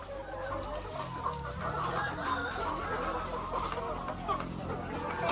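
Layer chickens cluck steadily inside a layer building, a dense close chorus of overlapping clucks and squawks over a constant background hum.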